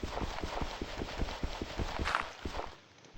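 A horse walks in the video game Minecraft, its hooves making a steady, evenly spaced clip-clop up close, with a short break near the end.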